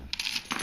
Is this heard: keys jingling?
yes